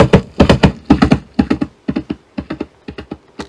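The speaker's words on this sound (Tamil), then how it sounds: "இது நமக்கு பரிச்சயமான குதிரையோட சவுண்ட்." A horse hoofbeat sound-effect layer of a running horse gives quick clustered thuds in a steady galloping rhythm, close and crisp, alone and without any voices, for several seconds.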